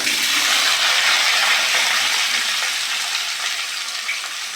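Potatoes and pointed gourd dropped into hot oil, giving a loud, steady hiss and crackle that slowly eases, with no talk over it.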